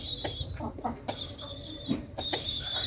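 Orphaned pigeon chicks cry with thin, high-pitched peeping calls that come in bursts, close by, over a faint background rustle.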